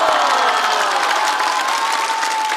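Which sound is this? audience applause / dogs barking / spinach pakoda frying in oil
audience applause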